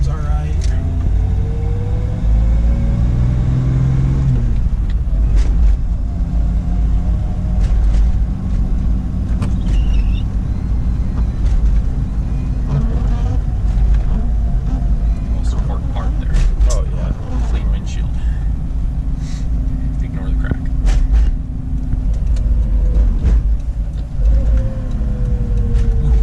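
A carbureted Toyota Land Cruiser drives along with a steady loud engine rumble and road noise, gear changes shifting the engine tone, while people talk inside the cabin.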